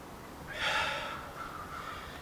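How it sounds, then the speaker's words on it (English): A single slow, deep breath is drawn in through the nose and then let out through the mouth, a soft airy rush close to the microphone that fades gradually. "In through the nose, making your belly bigger. Out through the mouth."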